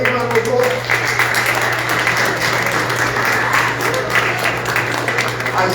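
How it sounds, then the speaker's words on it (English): A high school audience gives a freshman a big round of applause at a national award event, sustained dense clapping from a crowd, loud and close with a steady hum beneath. "Can we give this young man a big round of applause?"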